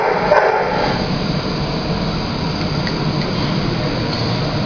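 Dogs bark at an animal adoption shelter, with a brief burst early on and then steady, noisy rumble throughout at a fairly loud level.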